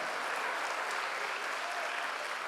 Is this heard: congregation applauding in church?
yes